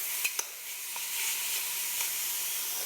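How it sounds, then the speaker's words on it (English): Ground meats brown in a pot with a steady, hissing sizzle and a couple of sharp pops or stirring clicks early on, fairly quiet with no talking. "We'll add our combination of ground meats there. I'll spread it around so we can get a little bit of browning going there."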